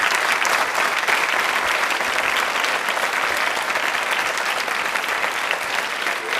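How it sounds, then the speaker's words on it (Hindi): Studio audience at a televised quiz show applauds loudly and steadily, dense clapping sustained from start to finish with no voices over it. "तालियां जोरों से बजाइए उनके सम्मान में आप"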